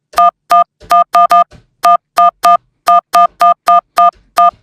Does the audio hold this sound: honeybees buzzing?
no